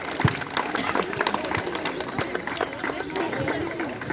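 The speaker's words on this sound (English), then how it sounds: "Give him a big round of applause" A school morning assembly crowd at Anupam Vidyasadan claps for a student, a dense, steady wash of applause mixed with children's chatter, moderately loud throughout.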